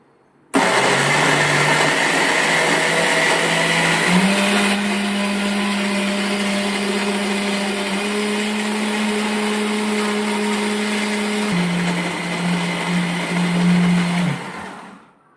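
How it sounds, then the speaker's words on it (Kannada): A mixer grinder blending cucumber chutney with salt and coriander leaves, a loud steady motor whine that starts abruptly, shifts pitch a few times as the load changes, then winds down after about fourteen seconds. "ಮಿಕ್ಸಿ ಮಾಡ್ಕೊಳ್ಳೋಣ."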